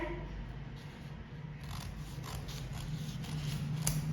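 Scissors snip through suit fabric in a quiet series of close crisp cuts and light mechanical clicks, repeated over a soft steady background.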